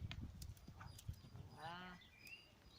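A horse moves at a gallop during a riding lesson with Valérie, its hoofbeats sounding as low, rhythmic clip-clop thuds close by, with scattered clicks and a brief higher whinny-like tone in the middle.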